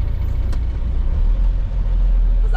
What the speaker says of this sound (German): Kommt ein LKW.